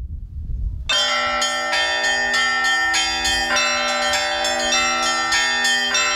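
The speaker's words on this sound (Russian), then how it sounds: "Звон встречный разнесся над Почезерским погостом в деревне Филипповской впервые за 82 года." Church bells at the Pochezersky churchyard in the village of Filippovskaya, Russia, ring loudly and continuously, rich overlapping peals with repeated strikes sustaining throughout after a brief quiet start.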